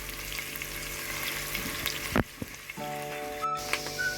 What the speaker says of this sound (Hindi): अब लहसुन हमारा तकरीबन भून चुका है, लहसुन ब्राउन हो गया। और अब मैं इसमें ये सब्ज़ मिर्चें शामिल कर दूंगी।